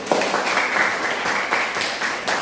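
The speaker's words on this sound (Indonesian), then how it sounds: "Tepuk tangan dulu." A classroom of children breaks into brief, dense group clapping in regular bursts. Close and fairly loud, with no clear talk over it.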